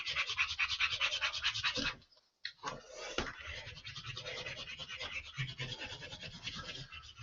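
A marker squeaks and scratches across a dry erase board in short, rhythmic strokes. They are close and fairly quiet, with a brief pause partway through before the writing continues.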